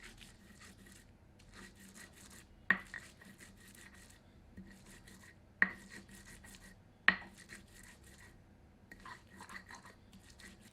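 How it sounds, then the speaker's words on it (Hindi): Spices are ground on a sil-batta stone, with repeated rhythmic scraping and rubbing strokes broken by a few sharp knocks of stone on stone, quiet and close. "मैं इन्हें सिलबट्टे पर पीस रहा हूं"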